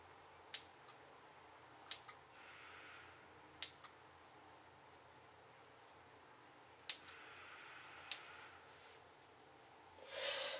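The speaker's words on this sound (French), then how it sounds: "Et je coupe." Scissors snip the split ends of a strand of hair in a quiet room, giving several crisp, close clicks that come singly or in pairs with pauses between them and no speech.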